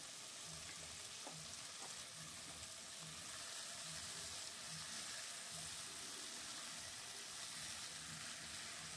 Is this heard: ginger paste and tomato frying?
yes